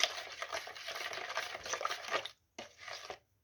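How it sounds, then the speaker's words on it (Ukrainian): A spoon stirs sugar into a pumpkin bread mixture in a bowl, giving close, soft scraping and swishing strokes that run for about two seconds, pause briefly, then resume for a short final stir. "Додаємо сюди цукор. Так розмішуємо"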